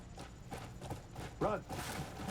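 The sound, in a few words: horse galloping hooves in Crimson Desert video game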